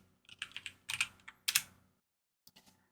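A computer keyboard is typed on in short, quick bursts of close key clicks, followed by a pause and a few final taps, in a quiet room with no talk.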